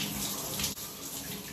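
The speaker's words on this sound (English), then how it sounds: "So I'll be using water to wash my wig" Water runs from a shower onto a wig being washed, a dense close splashing hiss that stays continuous with one brief dip.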